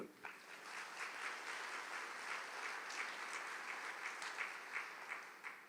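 An audience claps steadily through a priest's talk by Fr George Panackal, a dense, even patter of many hands that stays at a constant, fairly soft level, with no voices over it.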